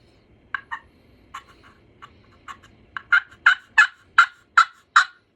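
A hand-operated turkey call sounding the basic yelp: a few scattered soft yelps, then a rising run of about six loud, evenly spaced, raspy yelps, close and clear over a quiet background.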